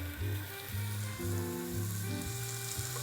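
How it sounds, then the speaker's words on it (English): Meat searing in hot oil in an Instant Pot on medium-high, a dense, close, continuous sizzle that stays steady, with no talking. "We're going to sear it good on each side in 2 batches"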